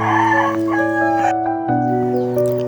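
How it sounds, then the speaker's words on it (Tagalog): Native heritage chickens in a backyard farm, a rooster crowing loudly and close with other fowl calling around it, a short clear burst with no talking. "mga natives lang po ang mga alaga namin dito na mga manok"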